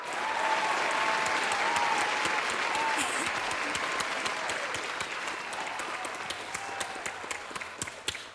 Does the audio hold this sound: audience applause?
yes